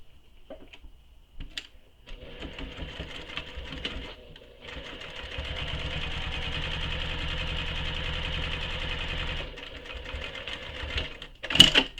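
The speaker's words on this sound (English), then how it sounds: "So now we need to top stitch the top edge of this slip pocket." A sewing machine topstitches the top edge of a handbag slip pocket. It starts with a few short bursts, then runs in a steady whirring stretch, pauses briefly, and finishes with a couple of quick stitches.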